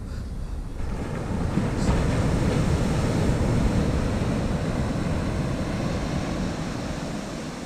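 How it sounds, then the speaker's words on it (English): Ocean waves roll onto a shore at Freetown, Sierra Leone, as a steady loud wash of surf mixed with wind buffeting the microphone, with no talking. "Let us just sit and watch the waves."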